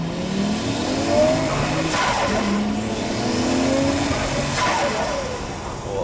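A Nissan Skyline R34 GT-R V-Spec II accelerates hard, its engine rising in pitch and dropping sharply at two gear changes, with whistling turbo or wastegate sounds over a loud, close, continuous drone.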